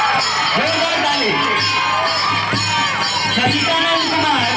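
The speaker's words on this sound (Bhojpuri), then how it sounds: "जोरदार ताली" An audience at a village stage play claps and cheers loudly, with shouts and whoops rising over a continuous wash of applause from a large crowd.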